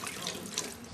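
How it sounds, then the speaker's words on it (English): Water runs from a tap into a pot in a steady, close splashing stream, with no talking. "So put some water in there."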